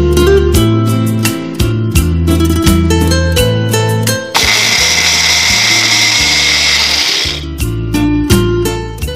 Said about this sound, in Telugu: ఇప్పుడు వీటిని మరీ మెత్తగా పౌడర్ కాకుండా ఒక్కసారి జస్ట్ అలా గ్రైండ్ చేసి తీసేద్దాం